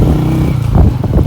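A motorbike labours up a steep, cold high-altitude mountain road between Skardu and Deosai, its engine loud and close with a rough, uneven revving throb.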